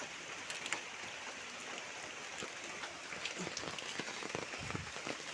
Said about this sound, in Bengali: এখন বৃষ্টিটা একটু কমছে